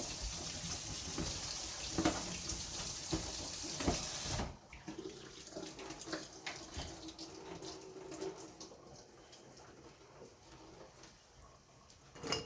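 Tap water runs steadily into canning jars packed with potatoes, a loud continuous gush that stops partway, followed by quieter splashing, clinking and handling sounds.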